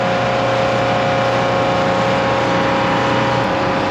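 A forty-year-old airport snow blower clears snow on a runway, its loud engine roaring steadily and close with a continuous churning drone throughout.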